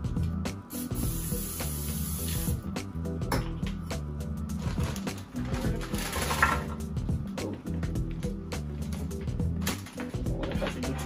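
Cooking spray is misted lightly onto a glass baking pan, giving a near, steady hiss with short breaks, heard alone.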